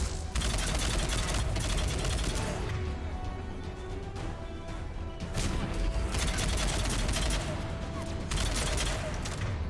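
Enemy gunfire in Mass Effect 3 rattles in dense, continuous volleys, with bursts that swell and ease over a constant loud barrage, and a voice speaks over the shooting.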